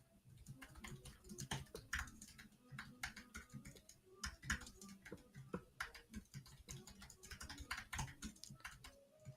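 Rapid clicking of a computer keyboard, irregular bursts of keystrokes close by and quiet, continuing steadily with short pauses and no talking.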